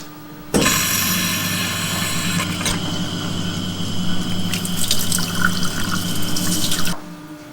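Water runs steadily from a tap onto a hot machined metal part to cool it, a continuous close splashing flow that starts abruptly and stops after several seconds.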